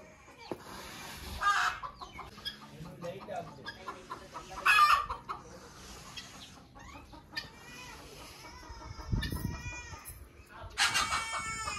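A farmyard hen on a Pakistani village homestead, getting ready to lay an egg, clucks in scattered bursts close by, with crowing breaking in between the calls.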